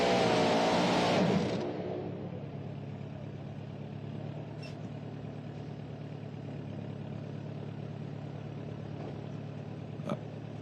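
Little Hurricane, the Peter Norton pulling tractor, hooked to the sled at a nighttime tractor pull in Farley, Iowa. A loud engine roar opens the clip and drops after two seconds to a steady idling rumble that holds to the end.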